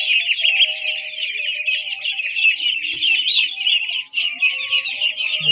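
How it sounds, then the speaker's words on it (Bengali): A flock of young Khaki Campbell ducks kept in confinement chirps and peeps in a dense, continuous chorus, close and fairly loud, with a few lower calls mixed in. "Original Khakee Campbell."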